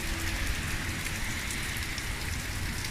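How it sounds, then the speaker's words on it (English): Steady rain falling outdoors, a dense even hiss of drops pattering on surfaces, continuous and fairly loud with no voices. "It's kind of peaceful out here in the rain, you know?"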